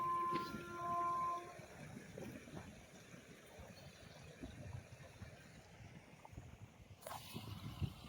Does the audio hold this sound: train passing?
yes